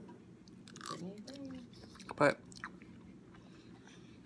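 Close, crisp chewing and biting of food while eating on camera, a few crunchy bites with one louder crunch midway, under brief quiet talk.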